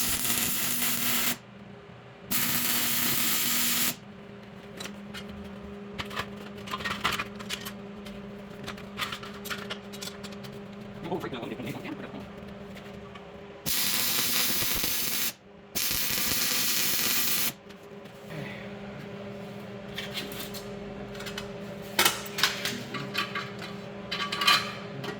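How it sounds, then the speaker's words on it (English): Metal brackets are welded onto custom light boxes in a workshop. Several loud, crackling hiss bursts of about two seconds each alternate with quieter stretches of faint shop noise, and no one speaks. "So now we need to weld these on."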